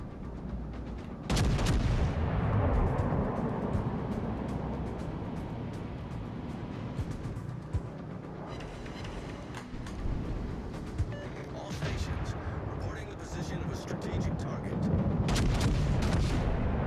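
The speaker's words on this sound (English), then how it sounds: "Oh wow, they're already shooting." Naval gunfire in World of Warships: Legends from a battle with the tier-4 battleship Texas: heavy cannon salvos boom out at intervals over a steady engine and sea rumble, with a voice talking between shots.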